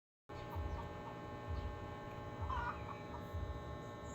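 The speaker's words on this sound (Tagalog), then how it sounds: "Paminawang manok, sigputak." A chicken clucks a few times in short bursts over a steady low electrical hum, fairly close by.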